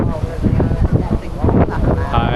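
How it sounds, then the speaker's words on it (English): Strong gusting wind by the ocean on Gulangyu island buffets the microphone, a steady roar with rumbling low-end blasts, under faint voices. "Wow, it's windy."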